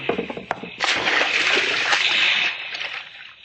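A body dropped into the sea from a ship lands with a sharp, loud splash that turns into a sustained rushing slosh of water, then fades away.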